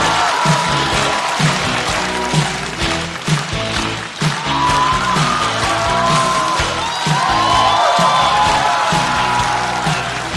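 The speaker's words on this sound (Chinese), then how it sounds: "掌声欢迎季业。" A studio audience at a stand-up comedy show applauds and cheers to welcome a comedian onstage, with loud, sustained clapping and scattered whoops and shouts that hold steady throughout.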